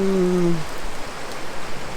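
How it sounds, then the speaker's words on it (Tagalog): Steady rain patters continuously, a dense wash of drops with a brief low hum at the start. "ang ulan sa Mayo"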